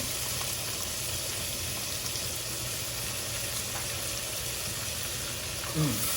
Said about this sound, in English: Hear that sizzle as soon as it hits the pan.